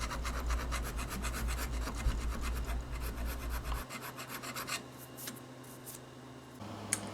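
A razor file rasps across the wooden neck joint of a Chet Atkins Nashville guitar during a neck reset, producing quiet rhythmic scraping strokes close by. The strokes are steady at first and then turn sparser and fainter.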